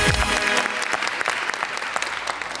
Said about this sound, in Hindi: तालियां यार